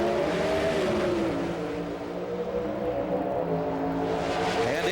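Pro Stock drag race cars, about 2,350 pounds with 5-speed transmissions and roughly 1,300 horsepower, roar steadily off the line together at a 1995 NHRA national event, loud and continuous with a dense engine drone throughout.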